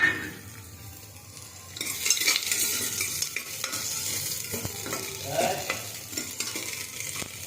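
Ginger, garlic and onion frying in oil in a pan, with a steady sizzle that swells loud after a quieter start, marked by occasional stirring scrapes and clicks and no talk.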